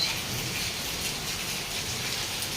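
Heavy rain pours steadily over a village, a dense, even hiss with no breaks and no voices across the short stretch.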